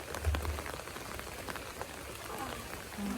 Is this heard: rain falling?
yes